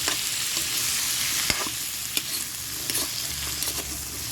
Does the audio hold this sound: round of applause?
no